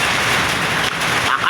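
A heavy thunderstorm downpour roars steadily, loud and close, heard from inside a shop with a brief dip in the rush near the middle.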